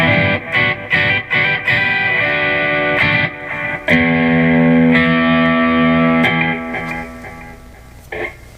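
A cheap electric guitar played through an amp's clean channel, strummed chords and ringing single notes with some effect coloring, sustaining for a few seconds before fading, with no talk.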